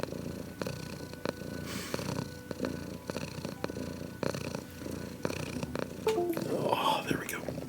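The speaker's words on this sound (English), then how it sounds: "I put my mic up at a higher volume to collect the purrs" A cat purring close to a raised microphone, a soft rhythmic rumble in repeated pulses, with a quiet whispering voice over it.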